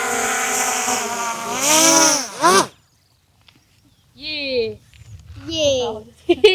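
A loud, high-pitched motorized whine rises and falls in bursts, cuts out briefly, then returns with more revving buzz.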